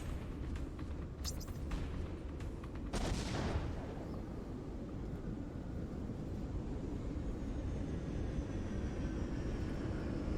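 Missiles fire in the mech game M.A.S.S Builder as a rapid burst of launches and blasts over a constant loud roar of engines and explosions, with no speech.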